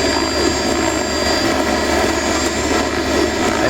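A shredder machine enemy in Arc Raiders, inside a pool area, gives off a loud, steady mechanical roar that fills the space continuously, droning close and heavy without a break.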